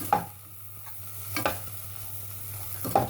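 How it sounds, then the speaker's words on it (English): Garlic frying in a pan, stirred with a utensil, gives a steady soft sizzle broken by three sharp scraping strokes spaced evenly apart, close up, with a low steady hum underneath and no voices. "So I'm going to keep stirring that before I add the tomatoes"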